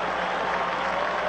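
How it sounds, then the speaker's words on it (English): Basketball crowd noise at a college game, Delaware State Hornets visiting Bradley Braves, a steady, loud roar of cheering fans filling the arena throughout, with no clear individual voices standing out. "Defense, defense, defense, and the crowd loves it"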